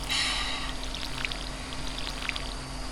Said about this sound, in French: Je vais arroser les plantes.